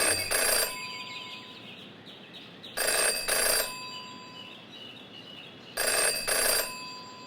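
A telephone rings in a detective video game: three separate double-burst rings, each about a second long, spaced a few seconds apart, clear and close over a quiet background.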